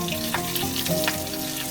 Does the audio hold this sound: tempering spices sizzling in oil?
yes